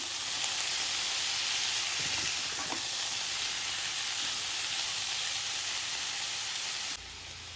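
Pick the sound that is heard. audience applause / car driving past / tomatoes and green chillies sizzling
tomatoes and green chillies sizzling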